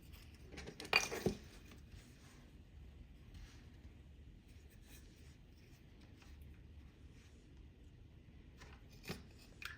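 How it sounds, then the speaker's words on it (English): Cables of a Cricut EasyPress Mini being cut during a teardown, heard as a couple of faint, sharp snips at the start and one near the end over quiet background. "Here I'm cutting the cables to make the teardown easier"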